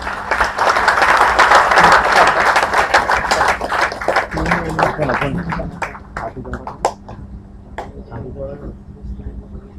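Event audience at a CSI chapter gathering in Navi Mumbai gives a round of applause for student volunteers: dense clapping that thins into scattered individual claps and trails off.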